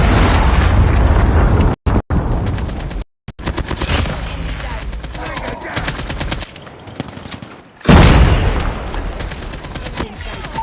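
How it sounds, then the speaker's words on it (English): A Predator missile strike in Call of Duty Mobile: loud, dense gunfire-like bursts and rumbling blasts, with a brief dropout, then a heavy explosive boom around the middle-late part that slowly fades. "Friendly Predator missile inbound."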